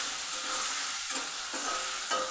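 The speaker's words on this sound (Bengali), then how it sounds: "এই ফুলকপিটা ভেজে নিচ্ছি" Cauliflower frying slowly in a pan makes a dense, close, continuous sizzle, with a few stirring scrapes breaking through.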